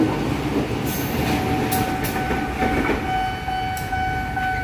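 A locomotive rolls past on an Indonesian railway line, a loud, steady rumble of wheels and engine with faint rail squeals and clanks, sustained and close throughout.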